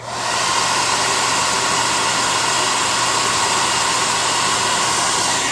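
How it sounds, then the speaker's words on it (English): A hot air gun blows a steady, loud, continuous roar while drying freshly painted tabletop miniatures of Darckadon monsters, holding unbroken from start to finish with no talking. "Using the +5 hot air gun burning, we will quickly finish up the dry job on these the best we can."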